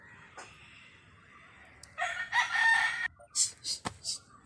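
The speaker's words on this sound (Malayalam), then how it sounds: "കോഴി വരുന്നുണ്ട് ഒക്കെ ചകഞ്ഞ് കളയാനായിട്ട്" A rooster crows loudly nearby in one long, strained call, followed by a few short squawks and clucks.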